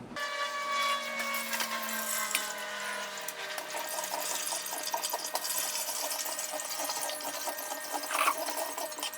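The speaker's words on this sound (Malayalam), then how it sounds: "ഇനി നമുക്കിതൊന്ന് അരിച്ചെടുക്കണം." Homemade ginger beer liquid being strained, with a steady trickling and splashing of liquid pouring through, close and continuous, with a faint mechanical hum underneath and no talking.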